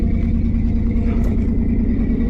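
A Chevrolet K5 Blazer with a carbureted engine is driven, filling the cabin with a loud, steady engine rumble and road drone that stays constant throughout, with no voices.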